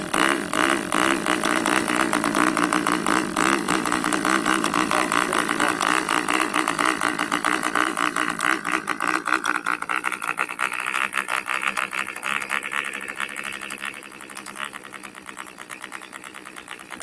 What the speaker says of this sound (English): And that looks like a diesel engine.